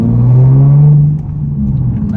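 A Nissan Z exhaust with a muffler delete gives a deep, loud, raspy drone, close up, rising briefly then settling into a rough, throaty rumble.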